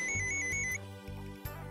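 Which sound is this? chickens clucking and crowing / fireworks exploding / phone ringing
phone ringing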